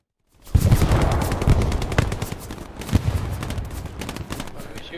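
Dense automatic and rifle gunfire from a Hell Let Loose battle, a sustained close barrage of overlapping bursts and single shots that runs almost the whole time after a brief silent start.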